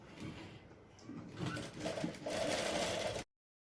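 A sewing machine stitches piping onto fabric for a patchwork blouse, making a faint, short rattling run that builds and then cuts off abruptly.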